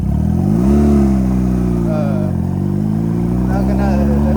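A Honda Rebel motorcycle engine runs on the choke with a loud, throaty idle that rises briefly in a rev and then settles back to a steady rumble. Someone talks over it.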